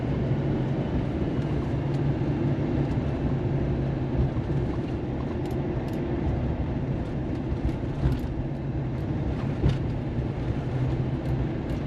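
A 2015 Chevy 3500 with a 6.6 Duramax diesel engine driving down the road, a steady low engine drone and road rumble heard from inside the cab, constant in level with faint ticks and no talk.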